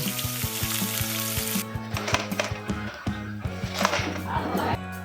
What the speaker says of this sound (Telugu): ఇదే విధంగా మిగిలిన నెత్తలను కూడా ఫ్రై చేసుకోవాలి